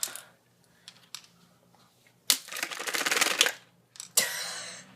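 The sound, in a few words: box fan running with a pencil stuck in it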